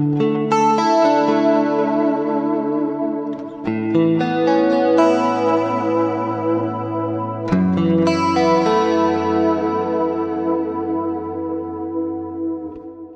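Clean ambient guitar through a parallel delay chain on a Fractal Axe FX, with a few lush chords ringing out and decaying into washed, echoing tails, played alone and close.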